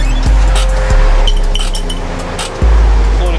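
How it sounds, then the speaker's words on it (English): The emergency brake of a VW Golf Mk5 being pulled after rear brake pad and disc work: close, loud low thuds with light ratcheting clicks over a continuous low rumble. "Let me pull my emergency brakes."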